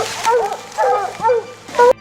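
Hunting dogs bark in several close, loud, yelping bursts, a quick irregular series of high-pitched yips and barks with a whining, tonal edge.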